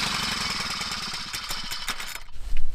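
Small engine with a gummed-up carburetor running after starting, a loud, rough, rapidly pulsing clatter close by that sputters and thumps unevenly near the end.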